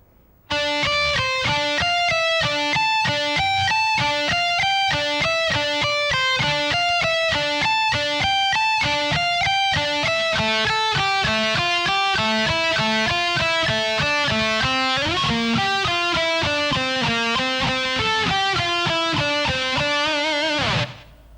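An electric guitar plays a fast lick slowly and evenly with alternate picking, a steady stream of clear, evenly spaced single notes climbing and falling for about twenty seconds with no talking.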